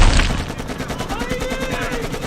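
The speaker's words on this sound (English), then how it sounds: "Somebody will appear on that rooftop and fire an RPG at your vehicle." Loud rapid gunfire in a virtual reality combat simulation where an RPG is fired at a vehicle, a dense rattling burst of repeated shots, close and continuous, with a brief low boom at the start.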